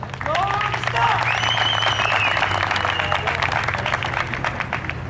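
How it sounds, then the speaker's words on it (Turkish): A crowd at a local association's football tournament final applauds the tournament coordinator, sustained even clapping with a few whistles and voices talking over it. "Alkışlarınızla"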